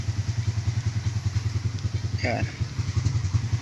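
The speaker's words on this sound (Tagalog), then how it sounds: "So painit-initin lang muna natin yung motor si Kasilayas." A motorcycle engine idling while warming up, a steady low rhythmic putter close by, with a man's brief remark and a short high chirp over it.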